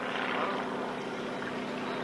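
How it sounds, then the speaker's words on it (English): Pre-war American propeller training biplane-era aeroplane flying at an airshow at Wroughton Airfield, giving a steady, sustained engine drone that stays loud and even throughout with no talk. "This was the aeroplane in which all pre-war American pilots would have gained their first piloting experience and their first look at aerobatics and things."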